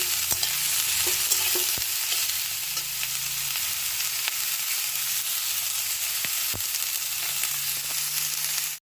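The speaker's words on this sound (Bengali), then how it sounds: "ভালো করে একটু এবার সবগুলো দিয়ে ভেজে নিচ্ছি" Semolina upma ingredients frying and being stirred in a pan, with a steady close sizzle and repeated sharp scraping knocks of the spoon against the pan throughout.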